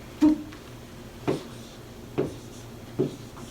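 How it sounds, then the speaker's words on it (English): Letters are written up on a board in four short, distinct strokes spaced about a second apart, each a brief close tap-and-scratch against a quiet room with no talking. "guess what the D stands for while I write it up"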